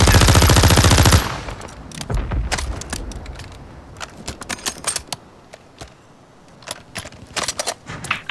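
Call of Duty Warzone gunfire opens with a loud, rapid automatic burst, then continues as scattered sharp shots and short bursts of varying distance against a quieter game background.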